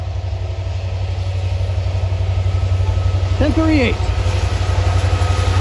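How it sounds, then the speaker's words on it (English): A BNSF freight train on the Hinckley Subdivision rumbles steadily close by with a loud, continuous low drone, while a person briefly calls out partway through. "Here comes the train from yesterday."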